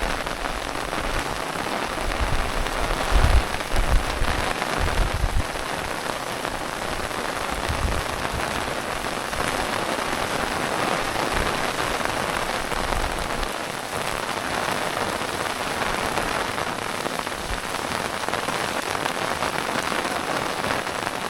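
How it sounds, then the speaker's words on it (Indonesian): Heavy rain pours down on a mountain trail in dense fog, a loud, unbroken roar of drops hitting surfaces at close range, with no voices over it. "Di sini hujannya cukup lumayan deras ya."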